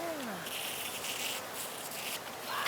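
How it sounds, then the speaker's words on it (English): Honeybees buzzing around a hive while a new package and queen are installed outdoors, a dense, continuous drone close to the microphone, with individual bees sweeping past in rising and falling pitches. "there are bees floating around us"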